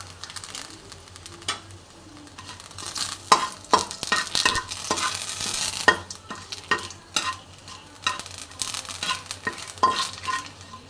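Whole bay leaves and dried red chilies sizzle in hot oil in a home kitchen, a steady crackling fry broken by a run of sharp clinks and scrapes as a spoon stirs the pan, with no voices.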